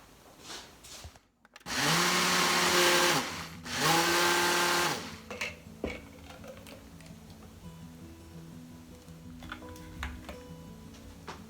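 A countertop blender purees frozen blueberries, strawberries, papaya, apple and banana with unsweetened almond milk, running loud in two bursts of a few seconds each, followed by quieter clinks and kitchen handling.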